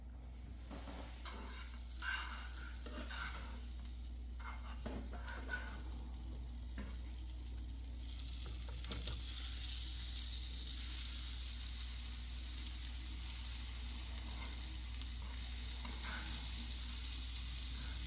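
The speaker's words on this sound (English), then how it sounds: "so we're going to put in our butter" Butter melting in a hot pan on a stove, a faint steady sizzle with occasional light clinks, growing into a constant hiss, quiet and close.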